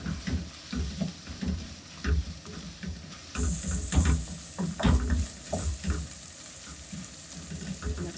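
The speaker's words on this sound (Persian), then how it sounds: "تفتش میدم." Food sizzles and crackles in a hot pan, vegetables sautéing with turmeric and parsley for pasta, with intermittent scraping and stirring noises rising and falling throughout.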